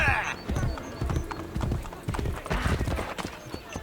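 Horse hooves clip-clopping in a steady rhythm while riding through a city in the video game Assassin's Creed Brotherhood, with someone talking over the galloping throughout.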